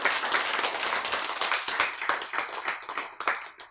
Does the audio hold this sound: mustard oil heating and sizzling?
no